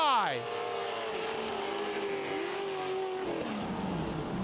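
Dirt track race cars roar past at the MORR Series Dirt City Dual: one sweeps by with a falling pitch, then a steady engine drone holds before another car passes. Commentary runs faintly underneath.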